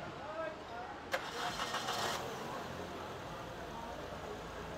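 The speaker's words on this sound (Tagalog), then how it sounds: "Okay, ignition on. Start." A Suzuki Ertiga engine cranks and catches after an oil sludge cleanout, a short whirring crank followed by a faint steady idle, with a voice speaking nearby.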